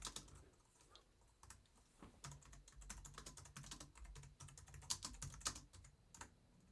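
Rapid clattering keystrokes on a computer keyboard, close and quiet, coming in irregular bursts of taps with no talking over them.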